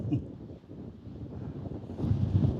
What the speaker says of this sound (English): It's quite windy, so sorry if the audio is absolutely terrible.